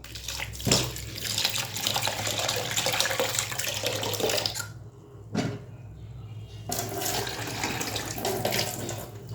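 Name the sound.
washing lentils (dal) in water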